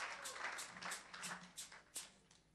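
Congregation in a church service applauding, a dense wash of many hands clapping with a few sharper claps standing out, moderately loud and continuous, no speech over it.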